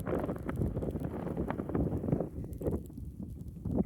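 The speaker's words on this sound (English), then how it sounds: "Of course it's gonna get windy." Strong outdoor wind buffets the microphone in a steady, rumbling roar that rises and falls for several seconds with no speech over it.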